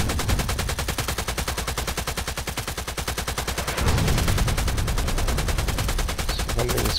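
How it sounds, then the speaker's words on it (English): Gunfire in the video game Contract Wars: dense, rapid automatic bursts that continue without letup for the whole stretch, loud and close, with a heavier, fuller barrage partway through and no voice over it. "Who can shoot so much?"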